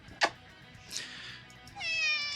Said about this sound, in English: The world's squeakiest kitty over here.